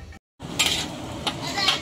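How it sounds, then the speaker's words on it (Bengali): Potatoes fry in a pan in a home kitchen, giving a steady close sizzling hiss broken by a few clinks of utensils against cookware, after a brief moment of silence. "আলু ভাজা হচ্ছে"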